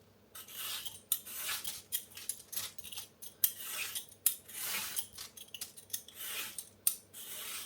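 A knife cuts radish in a home kitchen with quick, irregular, crisp chopping and scraping strokes, close up and fairly quiet, with no talking.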